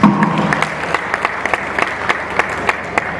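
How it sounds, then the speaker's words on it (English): Audience applause fills a parenting conference hall in Lagos, a steady wash of many hands clapping with sharper individual claps standing out, fairly close and continuous throughout. "Please give her a round of applause"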